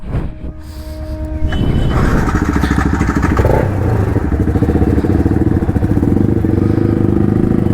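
A motorcycle engine starting and settling into a loud, close, steady idle with a fast pulsing throb, a brief clatter as it catches.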